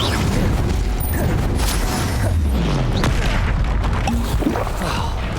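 Fiery spell blasts in the Hogwarts Legacy game, a dense, loud wash of booming, crackling bursts and whooshes layered continuously, with no talking over them.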